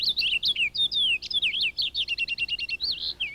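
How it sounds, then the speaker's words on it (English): Purple finches chirp in a backyard, a rapid run of bright, high warbling notes and trills close by, continuous for about three seconds and then repeated in quick staccato bursts. "These lovely birds are the purple finches, more rotund and deeper raspberry in color."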